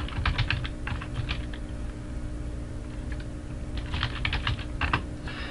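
Fingers type a message on a computer keyboard in quick bursts of clicking keystrokes, pausing briefly in the middle before a second flurry, close and clear with no voices.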